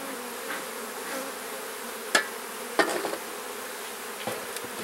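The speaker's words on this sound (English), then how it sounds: "So I'll try and get rid of these bees on the top." Honey bees buzz in a soft, steady drone around an open hive, with a few louder close knocks and scrapes from hive tools breaking through.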